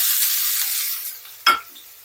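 Sliced onion frying in a pan, a close hiss of hot oil that fades over a second or so, then a brief sharp burst of sizzle or a spoon stroke before falling quiet.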